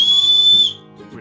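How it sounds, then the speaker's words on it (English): A small plastic survival-kit whistle blown once in a sharp, shrill, near blast lasting over half a second, then cut off, leaving quiet handling noise. "So there's a whistle right here,"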